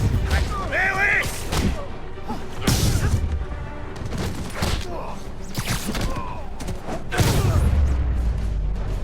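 Explosions in a Spider-Man video game, set off inside a building rigged to blow, come as loud, heavy booming blasts near the start and end, with game sound effects rumbling between them.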